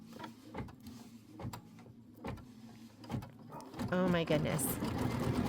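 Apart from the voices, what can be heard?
sewing machine stitching the outline stitch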